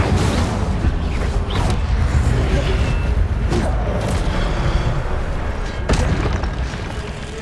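An Incendio fire spell from the Hogwarts Legacy video game blasts with a loud, sustained roaring boom and crackle. Heavy low rumble dominates throughout, with a few sharper pops and bursts layered on top.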